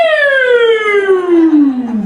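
A human voice imitates a police car siren with a single smooth, falling 'woo' glide lasting about two seconds, loud and close, with no real siren behind it.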